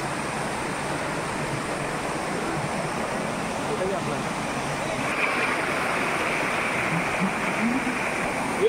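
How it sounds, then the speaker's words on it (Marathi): Patiya waterfall near Rajamachi fort flows with a steady, broad rushing roar of cold falling water, constant and fairly close, with faint voices mixed in. "हा पाटिया धबधबा"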